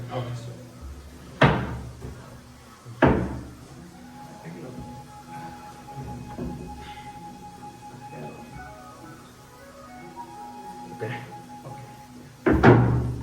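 Doors of an ayurvedic steam bath cabinet at a Kerala treatment centre shut with several solid thunks, spaced a few seconds apart, between stretches of people talking nearby.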